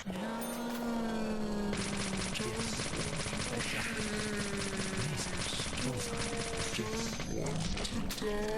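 Machine gun fire rattles in Deadly Premonition: a long, rapid, steady burst of evenly spaced shots in the middle stretch, with tonal game sounds and other noise layered around it.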